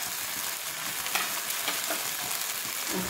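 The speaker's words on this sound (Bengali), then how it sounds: "এখন ডালটাকে ভালোভাবে ভেজে জলটা শুকিয়ে নিতে হবে।" Moong dal fries in a pan, giving off a steady, close sizzle and crackle with a few small spits and pops and no voices.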